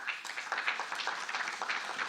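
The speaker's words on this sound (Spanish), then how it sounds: "para quien pedimos fuertes palmas" Audience at an international political communication congress applauding an honored guest, a moderate, even patter of many hands clapping at middle distance, soft and without speech.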